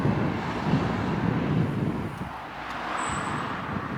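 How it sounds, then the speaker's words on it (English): Strong wind blows across an exposed high spot in Wales, a steady, full roar of gusts buffeting the microphone for the whole stretch, with no talking. "It's so windy. Why do I pick the most windiest places to go?"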